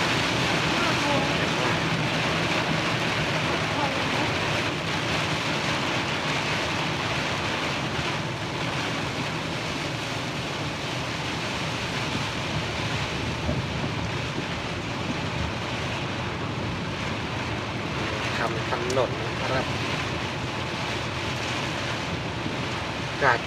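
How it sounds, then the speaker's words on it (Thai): A steady, heavy wash of broadband noise from dense rain pounding on a road nearby, continuous and loud with no pauses. "ดูว่าในกล้องจะได้ยินเสียงฝน"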